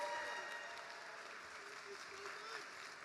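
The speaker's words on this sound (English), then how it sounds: "Can we have a round of applause for Leroy, the DJ?" Faint, distant audience applause for a DJ at a live comedy show, a steady soft wash of clapping with crowd noise and a few voices underneath.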